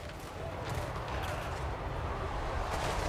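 Hand cannons fire in Total War: Warhammer III, a continuous rumbling barrage of overlapping shots and booms in a thick, steady battle mix.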